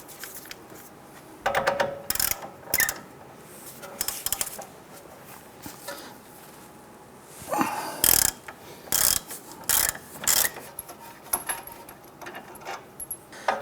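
Ratchet fitted with a 21mm socket working the outer tie rod nut on a 2002-2008 Dodge Ram 1500, heard as bursts of quick clicking separated by pauses, close and moderately loud with light metallic clatter between strokes.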